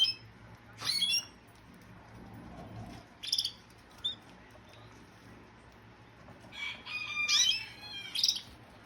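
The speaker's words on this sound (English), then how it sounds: "You can hear my rooster." Caged canaries chirp in short bright bursts spread through a quiet room with a low background hum, and a rooster crows faintly once in the middle, the sounds coming and going at moderate volume.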